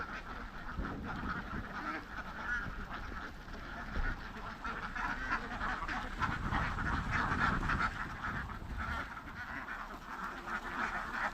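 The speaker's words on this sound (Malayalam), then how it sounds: "ആയിരത്തഞ്ഞൂറ് താറാവ് ഉണ്ടെന്നാ ഈ പറഞ്ഞിരിക്കുന്നത്" A flock of about 1,500 ducks in Karuvatta, Kerala, quacks continuously, a dense, steady chorus of overlapping calls with no pauses.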